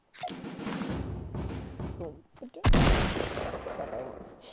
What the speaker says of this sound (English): Accidentally just shot there.